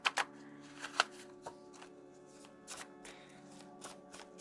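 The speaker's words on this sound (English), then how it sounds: "these cards are hard to shuffle" A deck of tarot cards being shuffled by hand, with soft flicks and riffling bursts at irregular intervals, quiet and close, with no talking.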